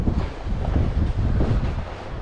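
Strong wind buffets the microphone on a beach during a fishing trip, a loud continuous low rumble with gusty surges and faint surf-like noise, no voices.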